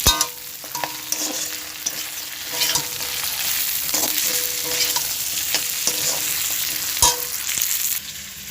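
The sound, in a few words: boiled chana dal added to fried fish heads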